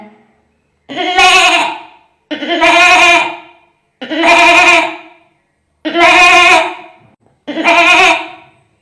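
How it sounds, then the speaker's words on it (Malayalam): A young goat bleats five times in loud, wavering cries, each about a second long and separated by short pauses, with nothing else heard. "അടുത്തതായി കുഞ്ഞ് ആട് കരയുന്നതാണ്"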